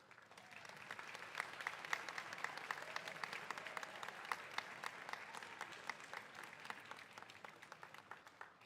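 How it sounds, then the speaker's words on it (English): Graduates at a nurse pinning ceremony stand and applaud their families and guests: sustained, dense applause from a large crowd, steady and loud throughout with no talking over it. "So if you could stand and give them a round of applause"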